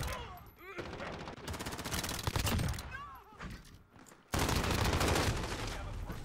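Rapid automatic gunfire in a Modern Warfare multiplayer match, loud dense bursts of shots broken by brief gaps, ending in a sustained heavy volley.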